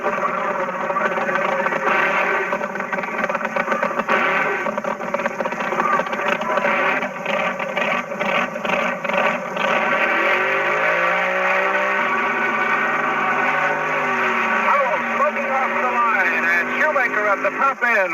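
A 1960s–70s Barracuda funny car launching in a drag race quarterfinal, a loud continuous engine roar climbing in pitch as it pulls away, with an announcer talking over it and crowd noise behind.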